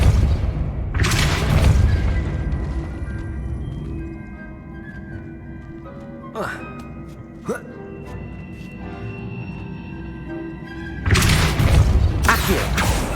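A spell cast in the PS5 game Hogwarts Legacy lands as heavy booming bursts at the start and end of the clip, with quieter game ambience and a couple of sharp hits in between.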